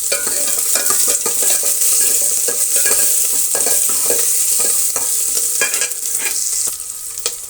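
Curry leaves and chopped green chillies crackle in hot oil as tempering for ridge gourd sambar, a loud, close sizzle with busy spatula stirring and scraping, no voices.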